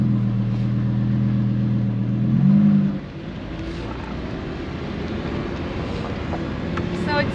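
A Lamborghini Sterrato in sports mode: a loud, steady engine drone that swells briefly around the third second, then eases into a lower rolling cabin hum with road noise.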